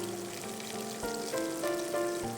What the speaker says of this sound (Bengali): তো এটাকে আমরা জাস্ট একটু হালকা ভেজে নিচ্ছি, এটা ফুল ভাজতে মানে হবে। একদম ডিপ ফ্রাই।